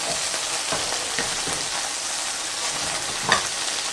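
A bacon cheeseburger patty sizzles steadily in a pan after being flipped, a dense, even hiss that runs the whole time with small crackles and one brief louder pop near the end.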